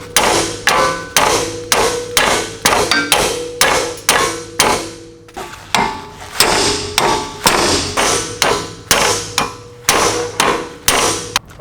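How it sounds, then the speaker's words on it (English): Hammer blows strike a stuck bolt on a car's suspension during a coil install, about two dozen loud, sharp metallic whacks in an irregular series with a brief pause midway, close and alone without talk. "Usually this hammer does the trick, but it's just so awkward swinging down there."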